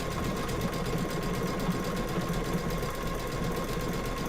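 An embroidery machine stitches an in-the-hoop ugly Christmas sweater ornament design, giving a steady, continuous mechanical whir with a rapid needle rhythm and a faint constant tone, close and alone throughout.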